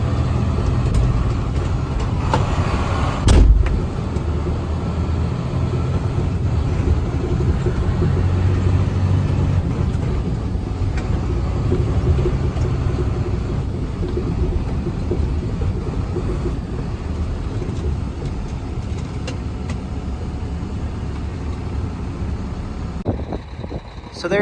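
Cab of a 2007 International 7400 6x6 truck on the move, a loud steady low engine drone and road rumble filling the whole stretch, with a sharp knock early on and a clunk at the end.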